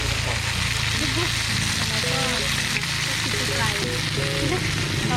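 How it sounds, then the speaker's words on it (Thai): Fish fries in oil at a campsite with a steady, loud sizzle and crackle that runs without a break, while voices murmur faintly underneath. "อ๋อคือต้องทอดปลาก่อนแล้วค่อยไปผัดกับผักใช่ค่ ะ"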